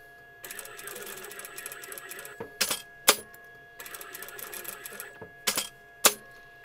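Domestic sewing machine stitching a rag doll's pinafore dress: two runs of fast, whirring stitching, each followed by sharp mechanical clacks, close and clear with no talking.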